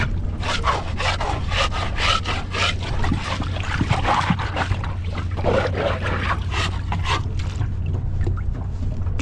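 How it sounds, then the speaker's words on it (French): A sailboat hull is scraped by hand at the waterline, rhythmic rasping strokes close by over a constant low hum, with no speech. "Du coup, je vais gratter."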